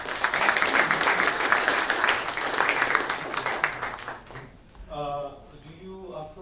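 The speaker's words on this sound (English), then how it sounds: "I think we can applaud" Conference audience at an international blockchain and crypto event in Paris applauding loudly with dense, sustained clapping for about four seconds, then fading as a voice begins speaking alone.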